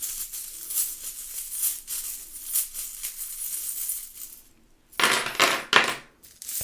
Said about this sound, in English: So let me just kind of shuffle these up.